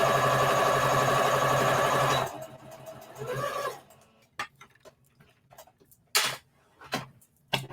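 A sewing machine runs steadily for about two seconds stitching an Easter bunny treat bag, then stops, followed by scattered clicks and light handling taps close by.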